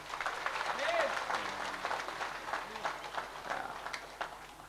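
A crowd at a religious gathering claps for Pak Apri, the scattered applause sitting fairly faint and partly mixed with talking voices.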